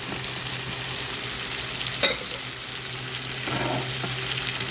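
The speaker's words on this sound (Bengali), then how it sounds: "এখন কাঁচামরিচ এবং জলপাই দিয়ে দিই" Spice paste fries in a pan with tomato as green chilies and olives go in, giving a steady close sizzle with a brief clatter and a swell of hissing as they hit the oil, for a small fish curry.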